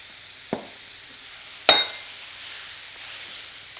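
Mushrooms sizzling in a hot pan as they are stirred, with two sharp scraping clinks of the utensil against the pan over a soft, steady background hiss.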